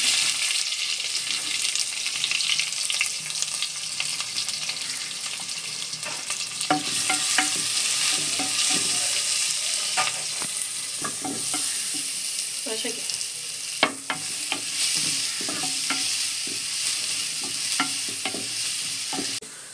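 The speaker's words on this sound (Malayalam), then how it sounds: "ആദ്യം ഒരു സവാള അരിഞ്ഞ് വെച്ചിരിക്കുന്നത് ഇട്ട് കൊടുക്കാം" Chopped onion with a sprig of curry leaves sizzles steadily in a hot pan for a Kerala-style mutton curry, with spoon scrapes and stirring clatter rising midway, close and continuous without talk.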